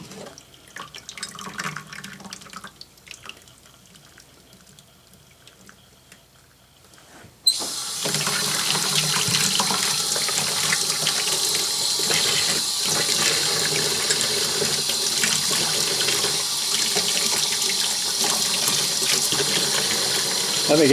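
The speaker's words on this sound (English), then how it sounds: "I'm going to take this over to the sink, actually, and pull it out of there, because it's going to be a mess, and rinse it off" Vinegar-soaked rusty part rinsed in a sink: after quiet clinks and handling, a tap opens abruptly and water gushes loudly and steadily into the basin for the rest of the time.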